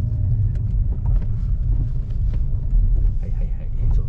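A car's engine rumbles low and steady from inside the cabin while it pulls into a narrow parking spot in a lot, a dull, continuous drone with no clear breaks.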